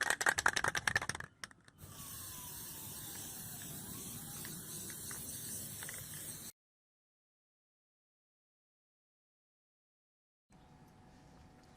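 Plasti Dip being sprayed from an aerosol can onto the wheels of a 2007 Ford Ranger: a steady close hiss lasting several seconds after a few rattling shakes, then silence and a short burst of faint noise.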